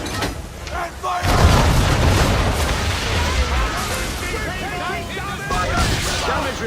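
Ship cannons fire during a naval battle in the video game Assassin's Creed III. Heavy booms roll and overlap beneath shouted voices and game sound.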